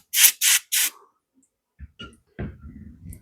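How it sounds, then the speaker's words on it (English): Three sharp hissing bursts of brake cleaner sprayed onto an oiler of a 1902 Reid engine, close and loud, followed by soft clicks and light handling noise. "Give her a little brake cleaner."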